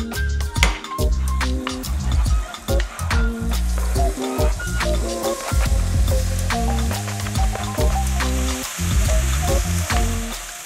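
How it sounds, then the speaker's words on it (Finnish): Onion stalks fry in a pan with a small amount of fat while making meatballs, a loud continuous sizzle with frequent clinks and scrapes of a utensil against the pan throughout. "Nämä pyöräytään tuosta pannun kautta pienessä määrässä rasvaa."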